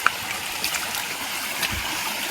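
Spring-fed stream water runs steadily from its source in a Konkan village in Sindhudurg, a continuous close, even hiss and trickle with a couple of faint brief clicks and no speech.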